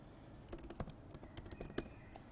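Computer keyboard typing into a spreadsheet, a quiet run of irregular key taps at close range with a few sharper strokes, no talking.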